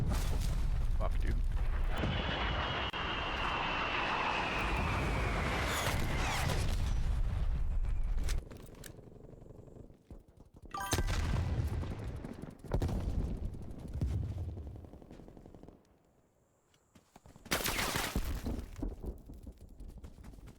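An incoming artillery strike in the video game Call of Duty: Black Ops Cold War rumbles with heavy booms and sustained explosive roar, broken by short gaps and renewed blasts, while players talk over it.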